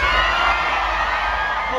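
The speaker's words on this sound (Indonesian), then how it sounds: "Yang masih semangat tuh teriak dulu satu kali." Concert crowd at the Pestapora festival cheering and shouting during a band's set, a loud, dense wall of voices and whoops sustained throughout.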